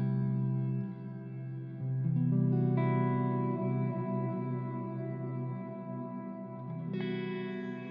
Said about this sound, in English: that's how to make a shimmer reverb in Cardinal